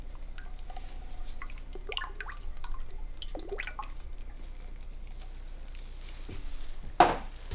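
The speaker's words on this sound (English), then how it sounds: "We're going to put in some coconut milk." Coconut milk poured into soap batter for a peach soap gives faint trickling drips over a quiet background, ending in a brief, louder splash.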